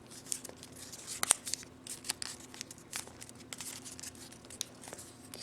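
Paper is folded and creased by hand to form the skids of a paper helicopter, with soft close-up crinkles, taps and crisp rustles scattered irregularly through a quiet room.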